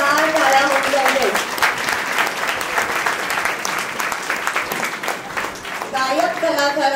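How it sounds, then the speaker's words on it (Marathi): Loud, sustained applause from an audience after a Ramleela skit, many hands clapping in a thick continuous wash, with a voice speaking over the start and end. "जोरदार टाळ्या होऊ लागले."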